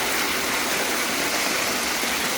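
Flowing water at a farmland water area in Chengalpattu, fed by pipelines, makes a steady, even broadband rush like a stream or small waterfall, continuous and fairly close, with no voices.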